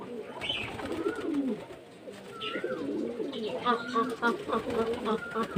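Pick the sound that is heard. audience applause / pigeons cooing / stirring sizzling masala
pigeons cooing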